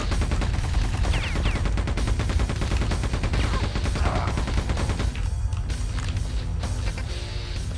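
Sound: Quake II gunner enemies firing spread grenade shots, video game

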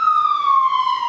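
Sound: emergency vehicle sirens outside bedroom window

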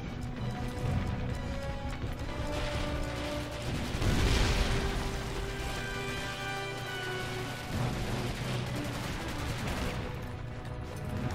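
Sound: explosions in the video game Medal of Honor: European Assault

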